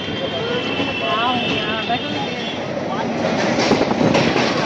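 A passenger train pulling out of Dakshineswar railway station, a continuous rumbling roar with a high metallic whine and faint rhythmic wheel clatter, with indistinct voices mixed in.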